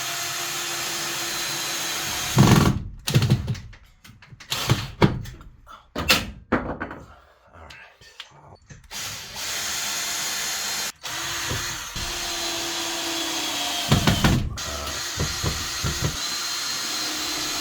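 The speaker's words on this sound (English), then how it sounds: "I have an old bit in my screw gun, and that's causing me some problems" Screw gun with a worn bit driving screws into drywall, repeated loud whirring motor bursts that stop and start, with short gaps and clicks between screws.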